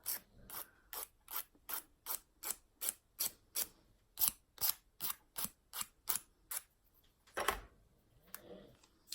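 A nail file rasps on an artificial nail tip in steady, even back-and-forth strokes, close and crisp, about twenty in a row, followed by a brief clack and a softer rustle.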